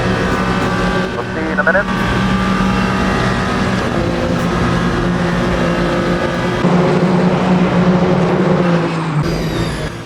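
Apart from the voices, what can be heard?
race cars including a Ferrari racing in Le Mans Ultimate video game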